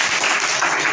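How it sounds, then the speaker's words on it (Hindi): Schoolchildren clap together in a Class 6 classroom during a solar-system activity: a brief, loud, dense burst of clapping filling the room, with no talking. "चलिए ताली बजा दीजिए।"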